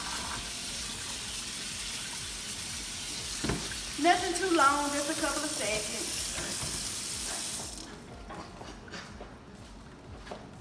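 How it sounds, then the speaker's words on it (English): Cold tap water runs over cooked macaroni in a colander, a steady splashing rush with a brief clatter partway through, then fading to a quieter trickle near the end while a person speaks briefly over it. "you wanna rinse it off with cold water"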